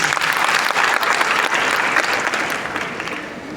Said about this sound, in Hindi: तो चाहे भी हो उनकी आत्मा के लिए मैं चाहता एक बार जोरदार ताली हो जाए।